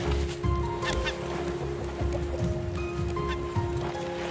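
A bird squawks and honks repeatedly near a scarecrow guarding crops in the survival game Raft, its calls loud and irregular over a steady background hum and game sounds.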